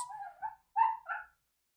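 Dogs bark and yip indoors, a few short high-pitched barks in two quick bursts separated by a brief pause, fairly faint and heard alone without talk.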